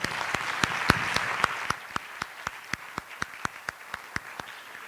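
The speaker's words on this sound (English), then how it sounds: "another round of applause" A lecture audience applauds, the clapping settling into a steady, rhythmic beat that fades slightly toward the end.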